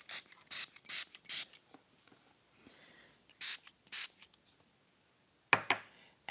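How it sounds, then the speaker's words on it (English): Several short bursts of water misting from a spray bottle onto scrap paper for an art piece, close and crisp, in two quick clusters of spritzes with pauses between and a lone final spray. "This is just water that I'm spraying on here."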